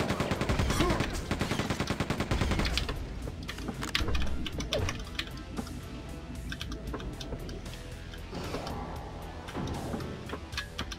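Rapid gunfire in Quake 2, a dense rattling burst of shots for the first few seconds, then scattered shots and impacts over game noise, loud and close.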